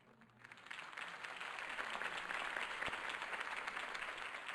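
Faint crowd applause in a Batman video game scene follows a campaign speech, swelling up and holding steady, a distant wash of clapping with no talking over it.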